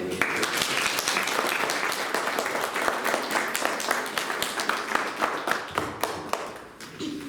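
A crowd applauds the director of the Ilinden culture house at the opening of a radio memorial room and museum, with dense sustained clapping that thins into scattered claps toward the end.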